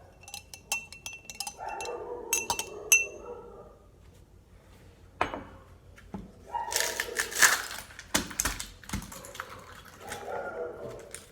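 A lime and sugar caipirinha mix is muddled and stirred in a glass, giving irregular clinks, taps and scraping knocks in scattered clusters, close and fairly soft.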